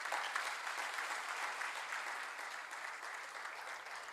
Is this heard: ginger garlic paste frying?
no